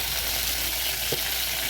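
Torn chillies and cumin fry in oil in a pan, giving off a continuous close sizzle that stays even throughout.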